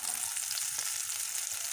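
Chopped onion is added to hot oil already tempered with green chilli and cumin, giving a steady, fairly quiet hiss and sizzle with no voices.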